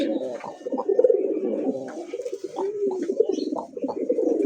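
Domestic Bangladeshi pigeons coo continuously at close range, with deep, rolling, throaty calls repeating in overlapping waves and no talk.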